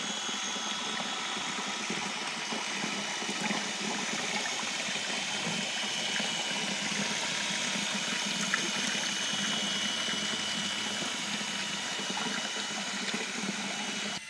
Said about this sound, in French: on recharge notre réservoir qui a à peu près 100-120 litres dedans tous les 3 à 6 jours